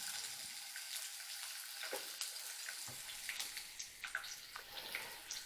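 Bell peppers frying in a pan give a steady, quiet sizzle with occasional crackles and pops throughout, close by and without talking.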